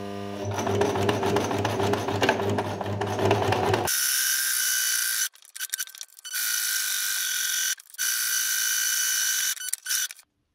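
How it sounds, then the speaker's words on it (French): Sewing machine running a seam through two layers of padded fleece-like fabric on three sides, a steady close mechanical whir broken by brief pauses, following a stretch of background music. "on passe à nouveau une couture mais seulement sur 3 côtés"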